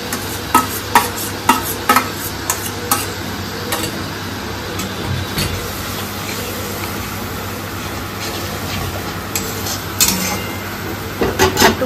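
A spice masala with sour yogurt and a splash of water sautés in a pan, giving a continuous sizzle under repeated sharp scrapes and clinks of a spoon, loudest at the start and the end.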